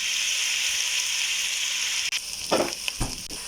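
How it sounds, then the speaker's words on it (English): Pre-fried sausages drop into a hot pan with crushed chillies, a steady frying sizzle swelling into louder crackling bursts as they hit the oil, close up with no talk. "Add in the sausages that have been pre-fried."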